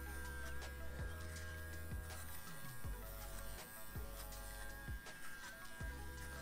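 Cordless dog clippers trimming a dog's hair, a quiet steady electric buzz with a few brief dips and clicks as the blade moves through the coat.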